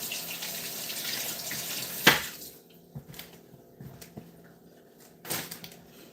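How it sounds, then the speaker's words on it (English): Hands rinsed under a running tap after chopping sticky pitted dates, a rushing stream of water that splashes, then shuts off, followed by a few faint drips and small knocks. "wash my hands really quick"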